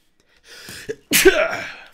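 A single sharp, loud sneeze bursts out after a brief softer intake of breath, heard close up with no talking around it.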